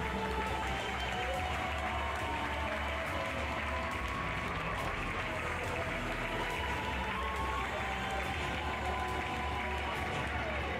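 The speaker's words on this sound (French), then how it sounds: "Et vous pouvez applaudir, voici le podium." Continuous clapping from spectators as the podium is presented at a pony eventing prize-giving, heard from a distance beneath music and a low outdoor rumble.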